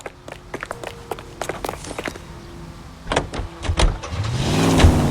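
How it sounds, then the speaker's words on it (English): Car in the video game L.A. Noire, with clicks and thumps of doors and movement early on, then a rising engine rumble as the vehicle starts and pulls away, growing louder toward the end. "Come on, we got a ride."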